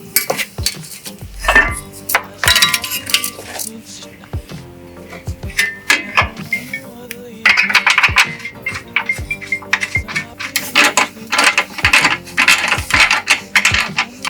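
A ratchet bolts a radiator carrier onto the frame of a wrecked Corvette Stingray 3LT, giving close, irregular metallic clicks, clinks and clanks with short pauses between bursts.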